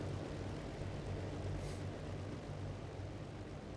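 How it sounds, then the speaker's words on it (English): A low, steady drone of a flight-simulator Spruce Goose's left outboard engines throttling up hums throughout, a constant mechanical rumble with a faint brief hiss midway. "I'm going to throttle up our left-hand outboard engines."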